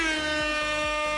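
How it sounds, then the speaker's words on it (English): A truck air horn in Farming Simulator 25 sounds one loud, sustained blare with a rich stack of harmonics, close and alone, with no talk over it. "You're getting a honk."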